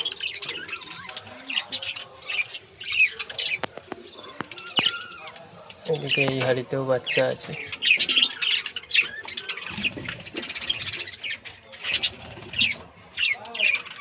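Caged birds in a breeding room, with breeding pots holding chicks, squawk, coo and chirp in a busy mix of overlapping calls throughout. A person talks over the birds.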